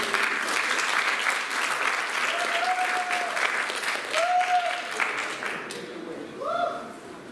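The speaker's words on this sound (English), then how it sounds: "So I want to give you guys a round of applause and I encourage you guys to do the same." Forum audience applauding during a digital transformation event, a dense, continuous patter of clapping with some voices and cheers mixed in, tapering off near the end.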